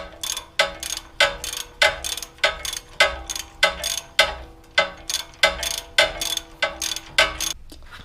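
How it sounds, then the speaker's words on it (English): Steady ratcheting of a 19mm wrench loosening a tie rod bolt on a Toyota Tacoma, a run of about fifteen evenly spaced metallic clicks and clacks, close and moderately loud with no talk. "Then use a 19mm wrench to take out this screw"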